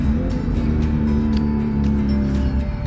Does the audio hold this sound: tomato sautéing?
no